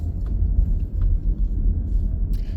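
A car drives along the coast on a blustery day, a steady low road rumble and engine drone heard from inside, with no talking.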